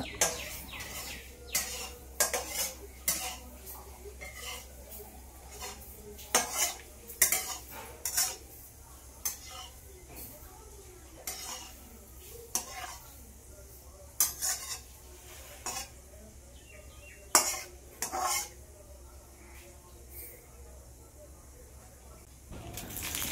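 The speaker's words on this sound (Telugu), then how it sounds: "కొద్దిగా తాలింపు గింజలు వేసుకొని తాలింపు గింజలు వేగాక" Tempering seeds fry in oil in a kadai while a ladle repeatedly scrapes and clatters against the metal in uneven bursts, over a faint sizzle and a low background hum, with a voice heard at times.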